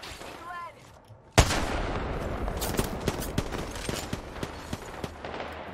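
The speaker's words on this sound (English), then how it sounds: "They're shooting." Gunfire in a shooter video game during a duos match: a sharp, loud burst opens the clip, then a rapid string of gun reports follows, with distinct shots cracking out over a dense, noisy backdrop.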